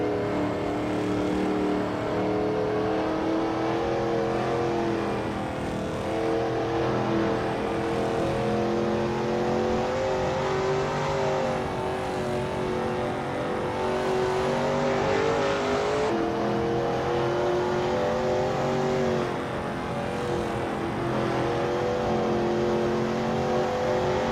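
Veloce GTS-8 race car in a racing game pushing hard on a qualifying lap at Maple Valley: a loud, steady engine whine rising and falling through gear shifts and revs, heard alone without talk.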